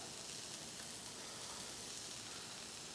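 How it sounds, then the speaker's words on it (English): A soft, steady sizzle of onions frying on a Blackstone griddle, continuous hiss without pauses, fairly faint and close. "Let's go ahead and throw our onions on. Whew, you hear them sizzle"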